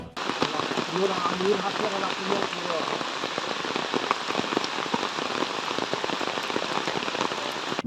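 Heavy monsoon rain in Kodagu, Karnataka drums hard and constantly on a surface, loud and close, with a brief murmur of voices early on.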